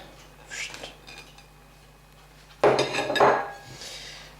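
Utensil scraping and clinking against a bowl as food is stirred during a home cooking lesson, with a short clatter early on and a louder, busier burst of scraping and knocking later, near and with no voices.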